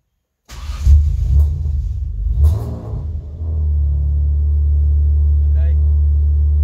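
A car's engine is started with a key after the immobiliser is scanned: a short cranking burst, a catch and brief rev, then a steady loud idle rumble that settles and continues to the end.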